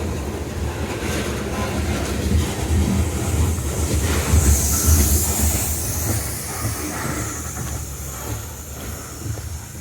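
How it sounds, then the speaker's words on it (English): A long coal train rumbles steadily past nearby at Thurmond, West Virginia, its cars rattling and clanking with a hissing, grinding edge that swells and fades slightly. "Wow, that's a long train."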